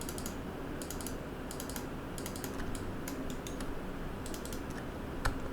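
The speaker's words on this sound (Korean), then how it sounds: "쉬프트 누르고 더블 클릭." Computer keyboard and mouse used while modeling in Maya, scattered light clicks and key taps over a steady background hiss, fairly faint.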